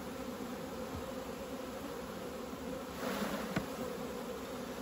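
Honey bees buzzing steadily around an open beehive during an inspection for European foulbrood, a continuous close drone that swells slightly near the end, with no talking.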